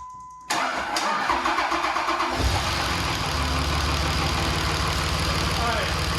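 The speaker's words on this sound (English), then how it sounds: "You wanna go over there and start the engine?" A car engine cranks briefly and catches, then settles into a steady, fairly loud idle that continues to the end.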